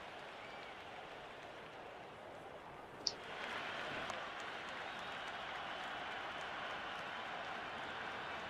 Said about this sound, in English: Crowd is electric right now.